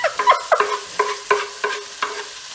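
Tomato and green chili stirred in a frying pan for chicken curry, a spoon scraping in a steady rhythm of about eight close, crisp strokes over a soft, constant sizzle.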